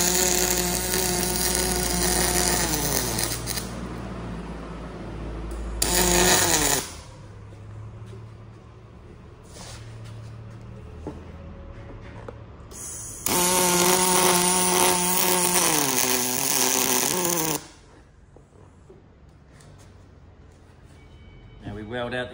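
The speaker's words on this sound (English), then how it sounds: "now we weld it out" Aluminium parts held in a jig are welded in two long, loud bursts of harsh, buzzing, crackling arc noise, separated by a quieter stretch of low machine hum and faint handling sounds.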